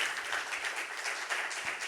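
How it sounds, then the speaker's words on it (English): A conference audience at a yachting event in Monaco gives a round of applause, a dense, steady patter of many hands clapping, fairly faint and distant. "If you'd like to give them a round of applause"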